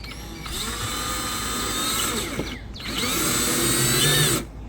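A power drill whirs in two sustained runs separated by a short pause, driving screws to mount a transducer bracket on an aluminum jon boat nearby, its pitch shifting as it works.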